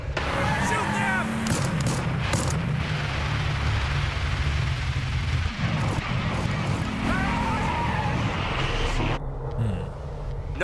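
Dense, continuous gunfire and low rumbling explosions from the video game Hell is Us fill a battle scene, loud and steady throughout, with brief game voices cutting through the din.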